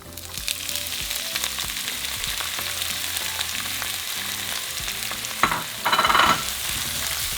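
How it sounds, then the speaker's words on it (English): Onions and tomatillos sauté in hot oil in a frying pan for chile colorado beef tortas, a steady, close sizzle throughout with brief scraping of a stirring spoon near the end. "we're going to add our onions and tomatillos"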